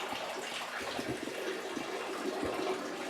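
Water drains from a canal lock chamber through a valve opened at a wicket gate, making a faint, continuous rushing with low gurgling pulses underneath.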